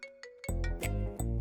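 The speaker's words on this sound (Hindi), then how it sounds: "देखो उस बदमाश का ही फोन आ रहा है।" A mobile phone ringtone in a Hindi-dubbed action movie scene chimes a short electronic melody, with quick tonal notes followed by brighter louder ones, fairly quiet and with no talking.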